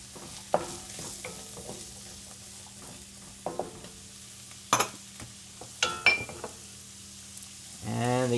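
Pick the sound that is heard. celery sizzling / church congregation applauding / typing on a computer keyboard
celery sizzling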